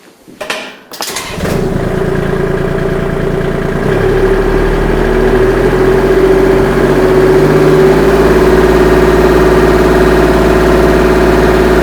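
A Kubota L2501 tractor engine cranks and catches, then settles into a loud, steady diesel run near 2,000 RPM, a close, even drone with a low hum holding for the rest of the clip.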